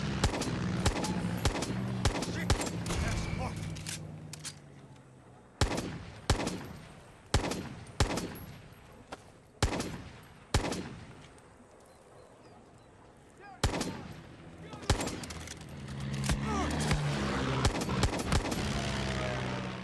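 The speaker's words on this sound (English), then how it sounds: "let me get my anti-air gun out" An anti-air gun fires in the video game Far Cry 6, with loud repeated bursts of heavy booming shots separated by short pauses and a steady rumble of background noise between them.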